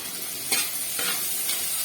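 Vegetable dal seasoned with coriander powder, cumin powder and salt is stirred in a hot pan, giving a steady close sizzle with a few soft scraping strokes of the spoon and no voices.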